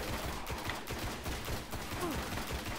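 Rifle fire in the video game Destiny, a dense, continuous rattle of automatic shots with no clear gaps, steady and fairly quiet throughout.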